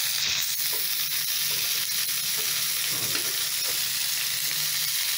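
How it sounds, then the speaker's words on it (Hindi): Green chillies frying in a pan of hot oil for a hog plum curry, a steady dense sizzle lasting throughout, close and fairly loud with faint stirring underneath and no voices. "मिर्ची भून रहा है"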